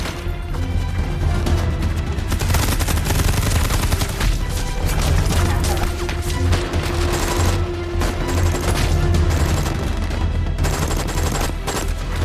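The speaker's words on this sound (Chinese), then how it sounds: "炮兵注意，炮兵注意！3号阵地准备火力覆盖。" Continuous heavy artillery barrage in a war film battle scene, dense overlapping gunfire and booming explosions rolling loud and unbroken throughout with no pauses.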